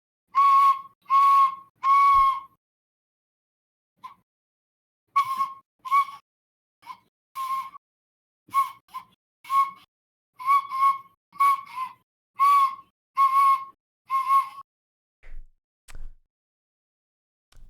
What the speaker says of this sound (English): So I'll be performing Hot Cross Buns on Tin Whistle.